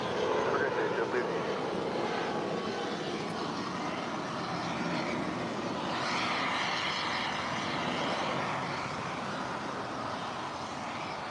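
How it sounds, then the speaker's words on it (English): A Virgin Atlantic Boeing 787-9 Dreamliner approaching to land at Los Angeles International Airport gives a steady, fairly distant jet rumble that swells slightly midway, under continuous talk and background bustle. "There's the second Virgin Atlantic Dreamliner. About to land up there on the north side."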